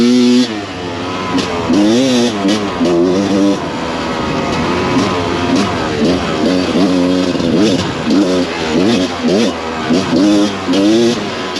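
A Rieju MR300 two-stroke racing motorcycle revs repeatedly, its engine pitch sweeping up and down in quick bursts, loud and close, with talking over parts of it.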